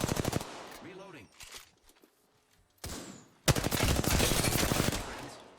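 Rapid automatic gunfire in the battle-royale video game Apex Legends, bursts of loud close shots opening and then a long sustained volley at the end, with a short stretch of spoken game voice between.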